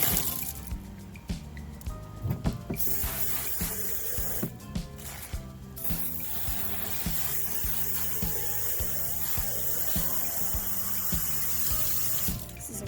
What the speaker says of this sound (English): Now we're going to rinse it out.